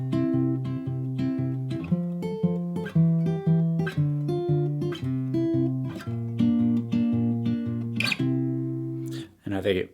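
A guitar plays a riff: a clear, clean-toned run of picked notes in a repeating melodic pattern, close and steady, ending in a couple of sharp accented strums.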